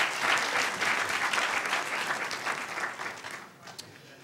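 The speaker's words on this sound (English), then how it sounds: "Huge round of applause for Mitch" A crowd applauds a speaker at a community event, a fairly soft wash of clapping that holds steady and then tapers off toward the end.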